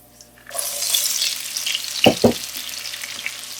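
Whole spices, including black cardamom and black peppercorns, hit hot oil and burst into a loud, close sizzle that crackles on, with a couple of sharper pops partway through.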